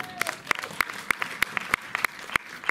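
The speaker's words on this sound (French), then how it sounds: "applaudis." Small cinema audience at a screening event in Montreuil clapping, sparse distinct hand claps in an irregular rhythm, fairly close and clear, with faint murmuring in the room.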